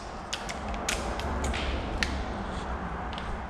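A ratchet working on a Ford crank bolt with a 15/16 socket gives steady creaking mechanical clicks, several sharper ticks standing out over a continuous low rumble. No one speaks.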